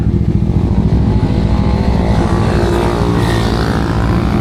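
A motorcycle engine idles loudly and close, a steady throbbing putter that holds even throughout with no voices.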